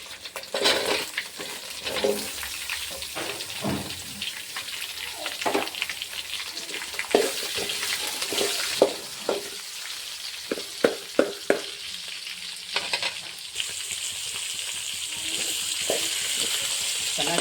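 Chopped onions frying in a pan, a continuous crackling sizzle with scattered spatula scrapes and a cluster of sharp taps midway, steady and close, no voices.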